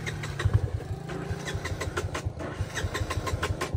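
A motorcycle engine on a muddy trail sputters and catches, then runs with an uneven, choppy mid-pitched rumble, fairly close and loud throughout without speech.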